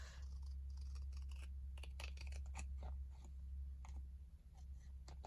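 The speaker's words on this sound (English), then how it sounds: "just going to use the scissors to trim that bit off" Faint crisp snips of scissors cutting paper, a quick irregular series of short clicks close by over a low hum.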